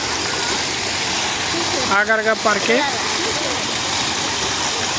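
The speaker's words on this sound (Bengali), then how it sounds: "ঝর্ণা অনেক সুন্দর" Water from a park fountain splashes steadily throughout as a continuous hiss, with a person speaking briefly over it midway.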